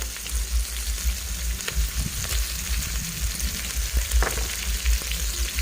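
Big chunks of pork belly sizzle and fry in a pan, a loud steady crackling hiss with occasional stirring scrapes, close up and continuous, no voices.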